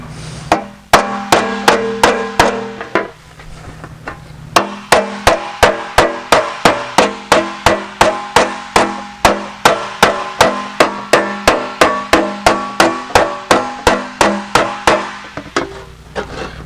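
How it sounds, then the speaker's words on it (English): Walnut and spring-steel slapper striking an aluminum bonnet panel for a Jaguar E-Type, loud sharp metallic blows in a steady rapid rhythm, a short burst, a pause, then a long run of evenly spaced ringing hits. "made a really nice slapper out of it"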